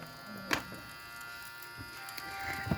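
A dog-shaped toy vacuum cleaner with flapping ears runs with a thin, steady electric buzz, faint and close, broken by a few small clicks and bumps.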